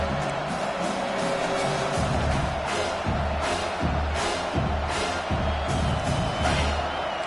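A home football crowd roars loudly as the defense faces third down, a continuous stadium din with rhythmic surges and stomping pulses.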